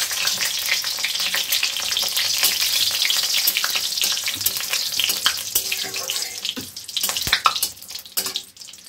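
Dried red chillies tempering in hot oil alongside slit green chillies, a loud continuous sizzle and crackle that thins toward the end, broken by a few sharp utensil knocks, with no voices.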